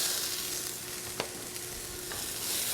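Finely diced potatoes fry in a pan with a steady soft sizzle, close by, with a couple of light utensil taps and stirs and no voices.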